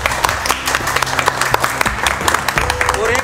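An audience at an indoor gathering bursts into dense, steady applause, with many hands clapping close by while a voice speaks over the crowd.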